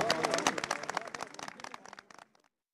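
Scattered clapping from a crowd gathered at a funeral ceremony for a veteran actor, a burst of applause that thins out and fades to silence within a few seconds.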